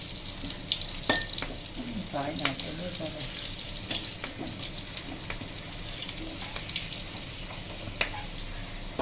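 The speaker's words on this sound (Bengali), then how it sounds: "আলুটাকে ফ্রাই করা হবে" Potatoes frying in a pan with tempered spices for soybean khichuri, a moderate steady sizzle broken by scattered utensil scrapes and knocks.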